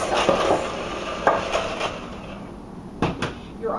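Lemon cookie dough being mixed in a bowl with milk, with scraping strokes and several sharp knocks of a utensil against the bowl, close and fairly loud, in uneven bursts.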